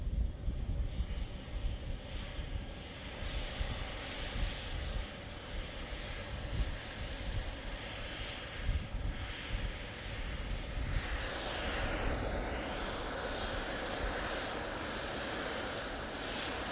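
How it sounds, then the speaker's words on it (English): Etihad Boeing 777-300ER airliner at Manchester Airport, a sustained jet engine roar with rough, wind-buffeted low rumble, swelling slightly and shifting in tone toward the end, heard alone without talk. "Etihad 777 300ER."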